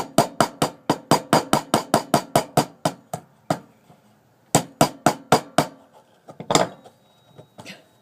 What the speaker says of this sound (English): Nailed it to the table.